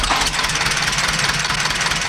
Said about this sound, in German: Ein Motor im Leerlauf verpestet unnötig die Luft und verursacht Geräusche.